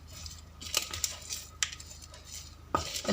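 Spoon scraping and clinking in a bowl while mashed potato mixture is stirred with salt and red chili powder, quiet irregular taps and a few sharper clinks, close by with no talking.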